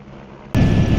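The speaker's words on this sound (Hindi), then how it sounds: "इस तरह से जब एक हेलीकॉप्टर आता है तो साथ में ही सबको फटाफट लेके जाते हैं" Helicopter arriving at the Neelgrath helipad on the Amarnath Yatra route: a steady low rumble suddenly swells into a loud, dense roar of rotor wash and engine noise, close and overpowering.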